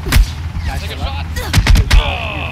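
Gunfire in the online shooter Ring of Elysium: a few loud, close booming shots in quick succession, with a voice talking over them.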